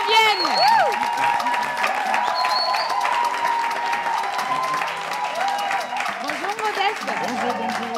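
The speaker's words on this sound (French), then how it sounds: "On applaudit jusqu'à ce qu'il ne vienne" Steady applause from a crowd, with cheering voices and music-like tones over it, loud and continuous throughout.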